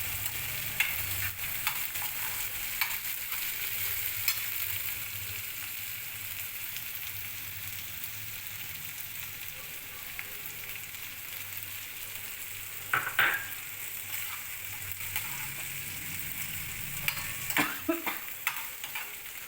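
Onions and green chilies fry in a bronze pot in a home kitchen, a steady close sizzle with occasional scraping and clinking of a spoon stirring against the metal, no voices.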